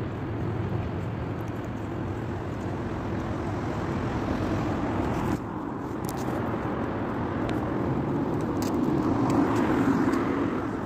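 Steady roar of heavy road traffic with many vehicles passing close by on a busy street at a crossing, a continuous loud rumble that swells slightly toward the end.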